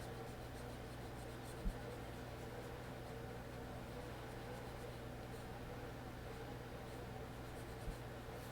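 An eraser rubs across a drawing in a faint, steady scratching drone, set against a constant low hum of room noise, with a couple of soft taps.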